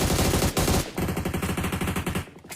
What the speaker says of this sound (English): a lot of gunshots being fired